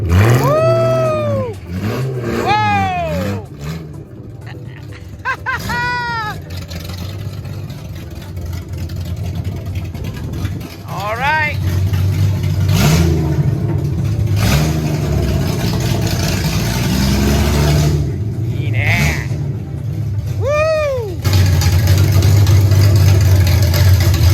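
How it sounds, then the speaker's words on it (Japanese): A Datsun 240Z Fairlady Z engine revs hard and close, rising and falling in repeated bursts like a race car, with steady engine rumble and a few voices between the revs. "もう レースカーに聞こえるんだよね。"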